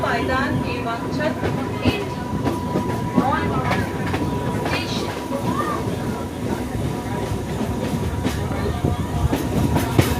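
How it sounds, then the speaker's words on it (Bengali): A local commuter train from Howrah to Digha rumbles steadily along the rails, with a constant loud clatter and hum throughout the ride and voices talking in the background. "লোকাল ট্রেনে করে আমরা যাচ্ছি দীঘা"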